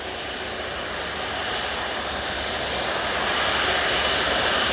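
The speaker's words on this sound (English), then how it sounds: "Next day we've got the Logan Air coming in from Aberdeen" Loganair plane arriving from Aberdeen at Manchester Airport, a broad steady engine roar that swells slowly louder over a few seconds, with no voices.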